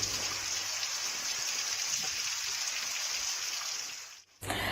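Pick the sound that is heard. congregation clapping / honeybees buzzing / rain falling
rain falling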